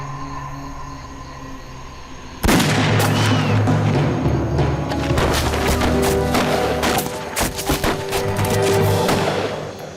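Gunfire bursts out abruptly after a quiet opening in a scene from a Khmer drama series, then continues as a dense, loud barrage of rapid cracks and booms that does not let up through the rest of the scene.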